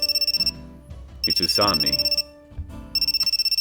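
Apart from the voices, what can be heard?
cell phone ringtone ringing, from a video game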